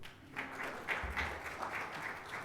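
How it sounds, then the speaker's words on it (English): Audience at a morning conference session giving a round of applause for a sea ice scientist about to speak, a quiet, fairly distant patter of many hands clapping. "if we could all give him a round of applause"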